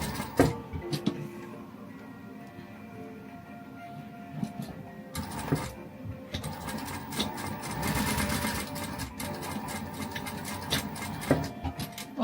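A sewing machine top stitching the tab on a fabric glasses case, running close in short bursts of rapid mechanical whirring and needle chatter, with brief pauses between runs.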